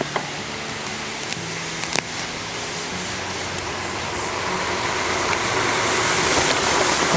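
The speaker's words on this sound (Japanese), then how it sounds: "本当どこ走ってても水の音が。" Stream water in Hinohara village, Tokyo, flowing beside a quiet back road, a steady broad rushing wash that grows slightly louder, with a few faint clicks.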